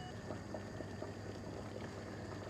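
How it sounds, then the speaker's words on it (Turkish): A pot of traditional Turkish soup from Ağrı simmers at a steady boil, with soft continuous bubbling and small pops, faint and close, with no voices. "Bir 3-4 dakika bu şekilde e, kaynatıyorum arkadaşlarım."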